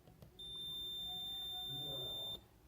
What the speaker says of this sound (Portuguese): escala do multímetro no bip